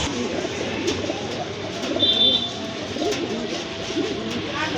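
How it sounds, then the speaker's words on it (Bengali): Pigeons coo softly and steadily, close by, with a faint chirp and some background murmur. "বাচ্চা সহ কবুতর এই জোলাটা নিতে পারেন"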